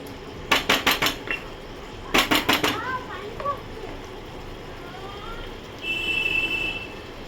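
Raw prawns go into a cooking pan for a prawn curry with mustard, poppy seed and peanuts, heard as two quick runs of rhythmic metal clatter close by, then a softer scrape and a thin high tone.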